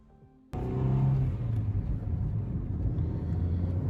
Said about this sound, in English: So like right now we are taking the car to the DMV.